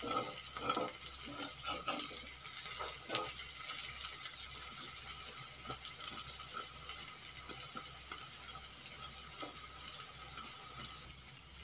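Masoor dal fritters fry in hot oil with a steady, even sizzle that runs throughout, close and moderately quiet, with faint clicks and stirring touches and no talking.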